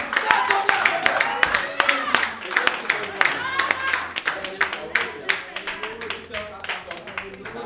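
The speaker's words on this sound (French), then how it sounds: "Acclamons pour le Seigneur." A church congregation claps and acclaims during a service, sharp rhythmic hand claps repeating steadily near and loud, with voices calling out and speaking over the clapping.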